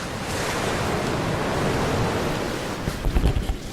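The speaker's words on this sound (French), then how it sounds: "j'entends le bruit du vent et des vagues s'éclater sur le sable doux" Wind and surf at the sea, with a steady broadband wash of wind and rolling waves and then a burst of breaking waves on soft sand near the end, close and fairly loud, with no voices.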